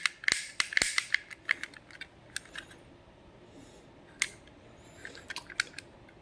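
Sharp plastic clicks from the sticking hood of a Scalextric Plymouth Barracuda model car, a quick cluster at first, then scattered single clicks and a few more near the end.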